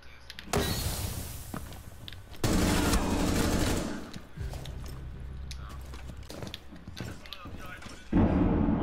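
Bursts of gunfire from a competitive shooter video game match, loud and dense with rapid shots in several clusters, mixed with game effects and players talking over it.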